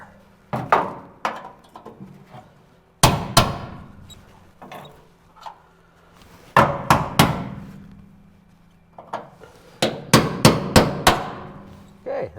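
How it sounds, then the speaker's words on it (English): A hammer drives a chisel through a spot weld on the rusted rear floor of a 1967 Kaiser Jeep M715, giving sharp metallic strikes in irregular bursts, close and loud, with quieter pauses between the clusters of blows. "luckily we can chisel through that little"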